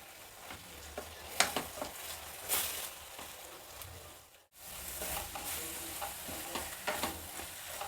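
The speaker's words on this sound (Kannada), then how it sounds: "ಸಣ್ಣ ಉರಿ ಇಟ್ಕೊಂಡು ಇದನ್ನು ಹುರಿಬೇಕು." Beaten rice mixture roasting in a pan over a low flame crackles with a faint continuous sizzle, punctuated by light stirring scrapes and one short pause.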